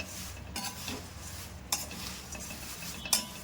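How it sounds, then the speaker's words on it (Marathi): Thin poha flakes roasting in a small kadhai make a close, dry rustling and stirring scrape, with a few sharper clinks of a spoon against the pan and a faint sizzle underneath. "जेव्हा आवाज येतो ना तेव्हा समजायचे की पोहे आपले परफेक्ट भाजलेले आहेत"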